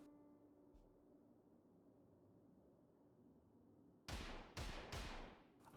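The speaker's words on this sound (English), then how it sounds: "I could hear gunfire outside." Three sharp broadband gunshot cracks in the game Project Zomboid, spaced about half a second apart near the end, following several seconds of quiet low ambient hum; moderately loud with no talking.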